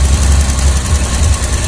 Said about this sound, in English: you can see the revs are starting to climb a little bit.